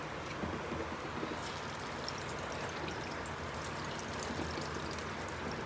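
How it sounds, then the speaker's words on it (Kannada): Homemade ghee pours into a pressure cooker on a gas stove while chicken biryani is started, giving a faint, continuous soft pouring hiss. "ಫಸ್ಟಿಗೆ ಹಾಕೋಬೇಕು ಗೀ, ಮನೆಯಲ್ಲಿ ಮಾಡಿದ ತುಪ್ಪ"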